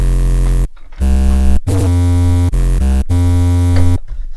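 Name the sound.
unprocessed wavetable bass synth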